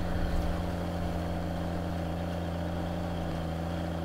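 A tractor engine in Farming Simulator 19 runs at a steady droning hum with a low rumble, continuous and even from start to finish.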